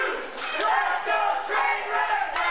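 Crowd at a Tommy Trainwreck versus JT Dunn independent wrestling match chanting in unison, a loud, rhythmic massed vocal chant with swelling pulses and a sharp clap or bang breaking through.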